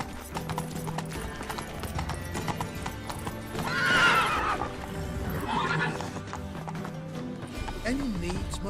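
Roach, a horse in The Witcher 3, gallops with steady rapid hoofbeats, breaks into a loud whinny midway and a second fainter one after, with game voices speaking over the hooves.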